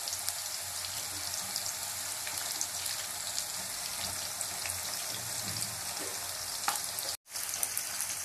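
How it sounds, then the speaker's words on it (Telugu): Bitter gourd pieces deep frying in hot oil: a constant, fairly faint crackling sizzle that runs throughout, with no voices. "ఆయిల్ హీట్ అయిన తర్వాత కాకరకాయ ముక్కలను ఆయిల్ లో వేసుకొని డీప్ ఫ్రై చేసుకోవాలి"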